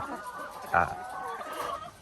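Egg-laying hens cluck softly on a rural farm, with one brief louder cluck standing out over a quiet background of birds.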